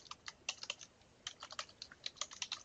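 Typing on a computer keyboard while writing a code comment in Unity: two quick bursts of crisp, close key clicks separated by a short pause, with no voice over them.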